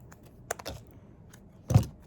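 Scissors snip the loose ends of cotton thread after a knot in a small handmade stuffed toy, producing a few soft, close clicks and one firmer cut near the end, with no talking.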